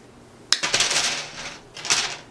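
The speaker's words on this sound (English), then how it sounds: "So I just cut the little hook off" Wire cutters snip the metal hook off a wreath form with a sharp click and a brief rattle, then a second, softer snip follows moments later, close by.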